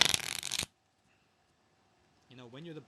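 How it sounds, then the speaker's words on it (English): A deck of playing cards is shuffled up close for a quick riffle of crisp, fluttering snaps lasting about half a second. Silence follows, then a voice starts speaking. "So when you shuffle, you have the cards in your possession."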